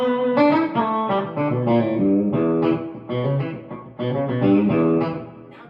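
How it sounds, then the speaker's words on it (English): A clean electric guitar with reverb and slapback delay, no drive, played through a Wampler pedal rings out in bright, sustained chords and single notes, each one followed by a quick echo and a spacious tail. "reverb and a little bit of the slapbacks on"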